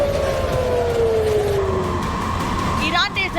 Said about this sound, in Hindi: इजराइल में कई जगहों पर सायरन की आवाजें सुनाई देने लगी।